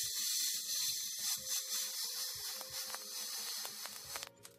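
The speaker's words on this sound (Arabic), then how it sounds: "اجيب اي استشوار اللي هو الجهاز بتاع الستات ده على البارد هواء" A hair dryer set to cold blows a steady, faint airy hiss onto charcoal to help it ignite, with small crackles and ticks scattered underneath.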